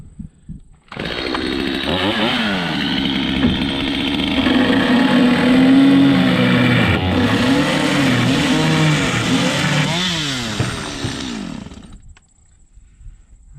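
A chainsaw roars up to full throttle and cuts steadily for about ten seconds, pitch dipping under load, then winds down to idle; loud and close.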